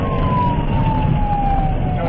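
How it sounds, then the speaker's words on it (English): A police car siren wails during a nighttime dashcam pursuit of a white Camaro, a sustained, slowly falling tone over heavy road and engine rumble. "As the officer activated their overhead lights and siren, signaling the driver of the Camaro to stop"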